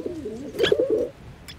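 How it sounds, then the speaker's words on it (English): Pigeon cooing in the video game Little Misfortune, a single soft, rolling coo close by, followed by a faint chirp, with no one talking. "Yo, that pigeon's over here peddling drugs."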